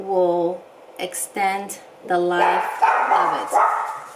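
A dog barks repeatedly in sharp, close bursts, yipping excitedly while a person talks over it.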